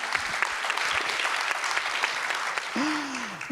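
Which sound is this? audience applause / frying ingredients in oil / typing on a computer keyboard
audience applause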